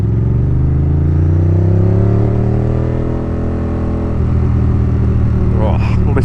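Ducati Monster S4 motorcycle engine revs loud and close, pitch climbing in smooth harmonic sweeps then settling into a steady throaty drone, with a brief crackle near the end.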